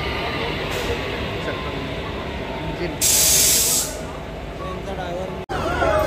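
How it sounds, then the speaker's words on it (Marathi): A train arriving at a station on a trip to Kolhapur, heard as a continuous mechanical rumble. Partway through comes a loud burst of hissing air, like brakes releasing pressure, and it ends with a sharp click. "ट्रेन आलेली आहे आता."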